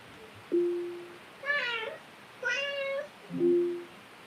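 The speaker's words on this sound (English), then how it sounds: "can quadruple the number of available meow sounds by purchasing the expanded meow pack" Four separate electronic-sounding cat meows from an Alexa smart speaker, evenly spaced and fairly clear against a quiet background.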